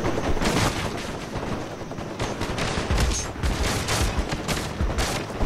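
Steady gunfire in Call of Duty Black Ops, dense volleys of rapid shots with a continuous rattling texture throughout, loud and close with little pause.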